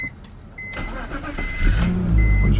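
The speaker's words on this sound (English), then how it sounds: "I hope the 4-cylinder and the super small cables are enough to get this 6-cylinder started." BMW six-cylinder engine cranking and catching after a jump start from a four-cylinder car through small cables, a close, loud rumble building up as it fires and settles into idle.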